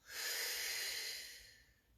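A long, breathy exhale during a yoga balance pose, with the left foot raised, rising quickly and then fading slowly over about two seconds, close and soft, with no talking.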